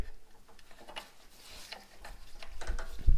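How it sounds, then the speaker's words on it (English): Vise grips working a threaded drain plug back into a snowblower, giving close, gritty metallic scraping and ratcheting clicks that grow louder toward the end, capped by a thumping knock. "I'm gonna work it back in with my vice grips"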